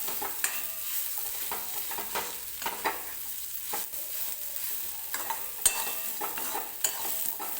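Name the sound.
stirring and frying spices in oil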